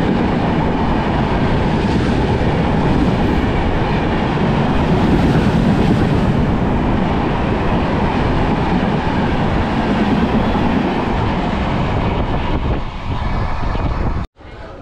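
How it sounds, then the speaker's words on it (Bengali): The Tamralipta Express thunders through a railway station, a loud, steady roar of wheels and carriages with rhythmic clatter that continues close by for the whole passage, then cuts off abruptly near the end. "বেরিয়ে গেল তাম্রলিপ্ত এক্সপ্রেস।"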